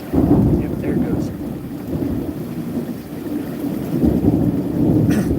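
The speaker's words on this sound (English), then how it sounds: "Gonna hear the thunder in a minute" Thunder from a sky-to-ground lightning strike during a storm, a long low rolling rumble that swells, eases, and builds again over several seconds, with rain in the background.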